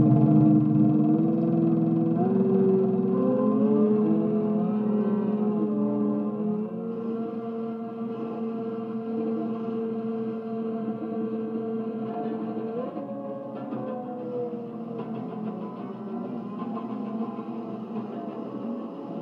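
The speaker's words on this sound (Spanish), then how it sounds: "estamos hablando del gran Luigi Russolo con su Despertar de la ciudad" Droning, engine-like mechanical tones from Luigi Russolo's futurist intonarumori noise instruments, with sliding pitches and buzzing overtones, a continuous noisy texture that stays fairly loud throughout.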